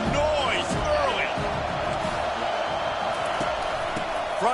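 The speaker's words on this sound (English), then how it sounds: "This crowd bringing the energy and noise early." Stadium crowd in a football video game keeps up a loud, steady roar with scattered whoops and cheers, while a commentator speaks over it.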